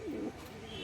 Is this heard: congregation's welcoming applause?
no